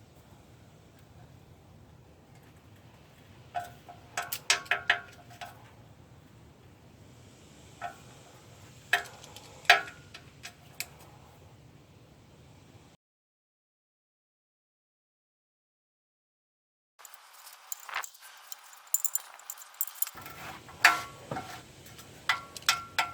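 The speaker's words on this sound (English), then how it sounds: "Now I'm going to tighten them with the torque wrench." A torque wrench set to 105 inch-pounds tightens the oil pan bolts on a Jeep Wrangler JK, making sharp ratcheting clicks in short bursts over a quiet background. A stretch of near silence falls partway through.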